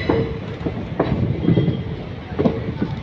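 A train easing into Vijayawada Junction toward platform 4, its wheels clicking and clacking over rail joints in a loose rhythm, with a low steady rumble and brief metallic squeals, close and fairly loud.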